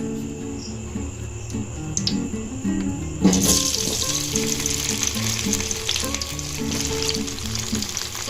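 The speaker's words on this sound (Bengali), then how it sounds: "তেলটা গরম হয়ে গেছে, এবার আমি ঢ্যাঁড়সগুলো দিয়ে দেবো।" Okra hits hot mustard oil in a pan: a quiet simmering hiss jumps into a loud, sustained sizzle and crackle once the pieces go in, continuing strongly to the end.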